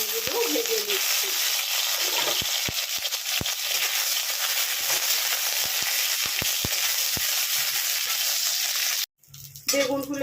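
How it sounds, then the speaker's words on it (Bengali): Eggplant pieces fry in hot oil with a steady, loud hiss and sizzle and a few crackles, continuing nearly unbroken before cutting off briefly near the end. "এবার আমি এর মধ্যে বেগুনগুলোকে ছেড়ে দিচ্ছি, দিয়ে আমি একটু বেগুনগুলো ভেজে নিচ্ছি।"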